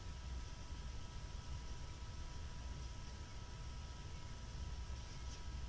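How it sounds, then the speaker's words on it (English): A steady, even hiss with a low hum underneath, like an air conditioner running constantly with no change. "I hear an air conditioner."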